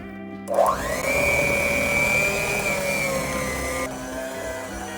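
A blender whirring up cookie dough ingredients, rising sharply to a loud, steady motor whine that holds for about three seconds before cutting back to a lower hum.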